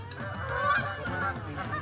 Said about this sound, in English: the geese come directly overhead